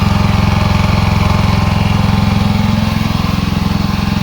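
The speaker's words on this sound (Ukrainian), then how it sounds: "двигун має достатньо потужності, щоб крутити електрогенератор" A Zegor 4500 inverter generator engine runs close and loud, a steady throbbing low drone with a fast even pulse and no voices.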